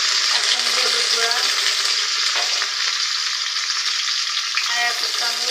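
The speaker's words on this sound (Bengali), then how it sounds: "এগুলো দিয়ে আমি ভালোভাবে নেড়ে চেড়ে কষিয়ে নেব।" Spices such as ground coriander, turmeric and chili powder are stirred and sautéed in a hot pan for raw banana peel bharta, giving a steady close sizzle with faint scraping throughout.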